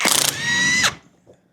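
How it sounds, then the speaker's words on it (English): Power tool, likely an impact driver, used during a C3 Corvette engine bay teardown, a rapid hammering burst then a steady high whine lasting under a second before cutting off. "sometimes these power tools really come in handy"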